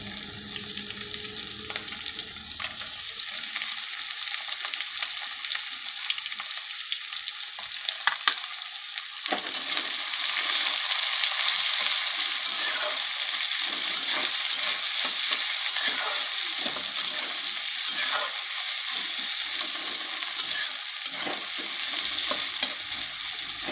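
Onion frying in hot oil with already fried potatoes for a village-style ghugni, stirred steadily with a spatula; a continuous loud sizzle and scraping rasp run throughout, growing denser partway through as the onion goes in.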